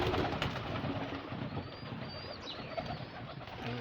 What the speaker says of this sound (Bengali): এই যে কবুতর ঘর খুলছি